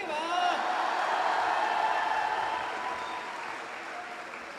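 Audience at a Hindi poetry recital bursts into dense, sustained applause, loud at first and slowly tapering, with no voices over it.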